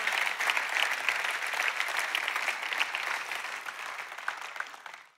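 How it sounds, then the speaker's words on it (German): A church congregation at a Sunday night service applauds, sustained dense clapping from a large crowd that fills the room and slowly tapers off toward the end, without any speech. "Lass uns das für Gott einen Applaus geben."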